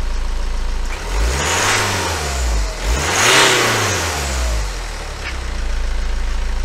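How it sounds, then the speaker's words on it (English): A car engine revs up twice in sweeping rises and falls, settling back to a steady idle between and after, loud and close with no talk, during an automotive oscilloscope test. "Let's rev up the engine and see what happens."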